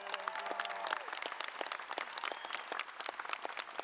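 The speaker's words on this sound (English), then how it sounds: "So go ahead and give John Beaumont a big round of applause." Audience applause at a congressional event, many hands clapping steadily at moderate level, with a brief tone and faint voices early on.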